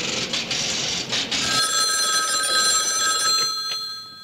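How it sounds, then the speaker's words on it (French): A telephone bell rings in a horror film, a bright continuous trilling ring that starts after brief noisy rumble and holds steadily, fairly loud, with no talk over it. "Your phone's ringing."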